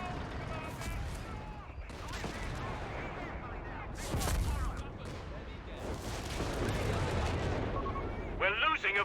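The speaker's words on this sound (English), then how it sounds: "I can even barrage his base here and go for a bit of base harassment" Artillery barrage pounding an enemy base in Company of Heroes 3, a dense run of booming blasts and crackling gunfire mixed with battle noise, with a voice talking over it.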